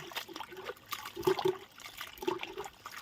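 Pickled bamboo shoots are rinsed in water, with soft, faint splashing and trickling in a few short, uneven bursts.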